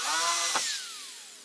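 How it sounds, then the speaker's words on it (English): A power drill whines at high speed boring a 1/8 inch pilot hole for a Volkswagen Bus sliding door track, then spins down with a falling pitch as the bit stops, short and close. "drill an 1/8 inch pilot, then do the big one"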